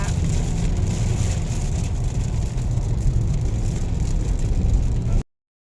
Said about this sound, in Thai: นึ่งมาแล้วฝนตก รถขับไปไม่ได้ ต้องไปแบบช้ามากฝนตกถนนลื่นเนาะต้องไปช้า